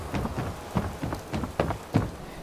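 Steady rainfall in the video game Fallout 4, a dense hiss of drops with a few brief louder swells, continuous across the whole stretch with no voices.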